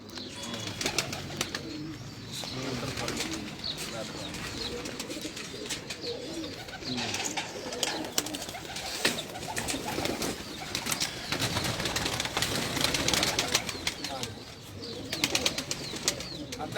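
Several pigeons coo repeatedly close by on a Lahore rooftop, soft throaty calls overlapping in an uneven rhythm, with occasional rustling and flutter.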